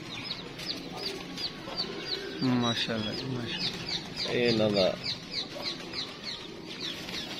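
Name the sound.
pure Imam Deen pigeons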